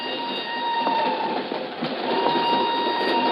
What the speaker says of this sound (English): she's aboard a northbound train rolling out of Lisbon